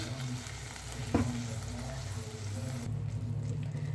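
Egg curry masala frying on a low flame for anda ka salan, a steady soft sizzle with one brief scrape of a stirring spoon, close and fairly quiet throughout.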